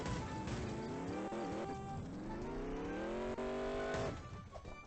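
A car driven in the Roblox-style video game Mad City, its synthetic engine note climbing steadily in pitch as it accelerates, then cutting off abruptly near the end, loud and alone with no talk.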